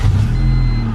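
A Honda Civic Si (EM1) engine runs after a fuel pump replacement, a loud, close, steady idle with a low rumbling drone and no talk.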